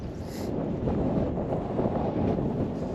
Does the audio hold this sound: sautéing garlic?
no